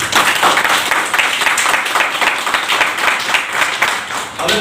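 Enthusiastic audience applause at a motivational talk on network marketing, a loud, dense burst of many hands clapping that carries on steadily for several seconds.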